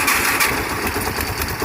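An engine that had sat unused since 1993 fires up and settles into a rough, steady idle, with a loud, close mid-pitched running rumble throughout the short stretch.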